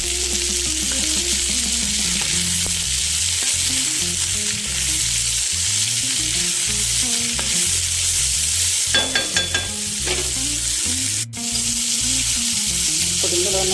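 Bitter gourd pieces frying in a pan with salt, a loud continuous sizzle close up, broken by a few brief scraping stirs and a sharp knock, with no voices.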